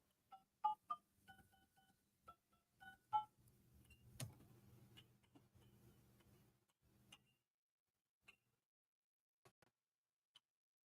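Touch-tone keypad beeps entering a ten-digit phone number on an automated phone line, a quick run of short clear tones, then a few isolated beeps after a pause.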